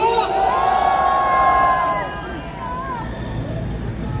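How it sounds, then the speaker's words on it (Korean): A large outdoor crowd at a university students' rally in a park cheers and whoops loudly, with dense babble and shouting that stays strong, then eases slightly but continues to the end. "저희 파이팅 넘치는 자유대학의 막내 윤창정 아버님께 박수 한 번 더 부탁드리겠습니다."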